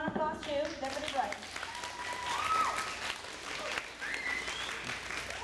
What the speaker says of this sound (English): Let's go ahead and give a round of applause to Deputy Briere.